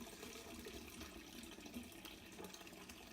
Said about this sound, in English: We're getting triple filtered, and we're also oxygenating the wort while we do it too.